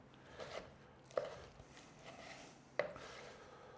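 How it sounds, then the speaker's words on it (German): Knife chopping grapes very finely on a board, a few soft, quiet, irregular cuts with two sharper knocks spaced more than a second apart. "Dann wird das Ganze wirklich klein geschnitten, richtig klein."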